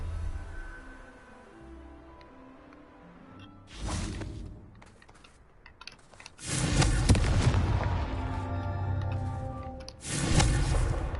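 Confringo blasting spells explode in Hogwarts Legacy, a video game: a series of deep booming blasts with rumbling tails, one near the start, a longer heavy burst in the middle and another at the end, separated by quieter ambience.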